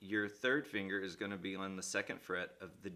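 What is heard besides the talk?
No everyday noises stand out.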